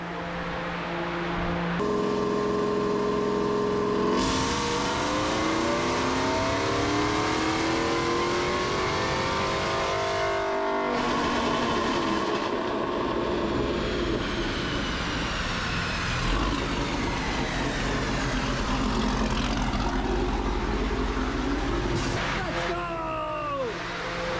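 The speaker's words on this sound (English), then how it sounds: "we're gonna get the final pull on the Denali" A GMC Denali truck engine revs hard on a dyno, climbing steadily through the gears in a long, loud pull that stays close and constant, then ends with a sharp drop.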